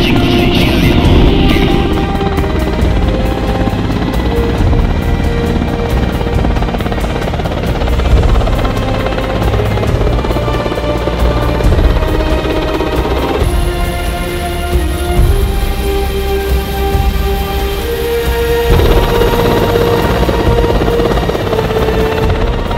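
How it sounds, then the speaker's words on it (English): Helicopter lifting off in the remote jungle of Chiribiquete, Colombia: a loud, steady rotor and engine roar that holds throughout, with a dense low throb and a shifting whine above it. "Now the helicopter's lifted off, it's coming back in a few hours for us."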